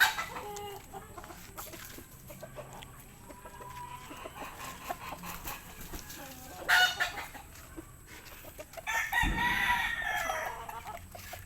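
Young Spangle chickens cluck nearby while a rooster crows, set against steady farmyard background noise, with a louder, longer crow near the end.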